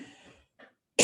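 A person coughs, a faint throaty rasp and a brief second hack, then a sharp, loud cough burst close to the microphone at the end.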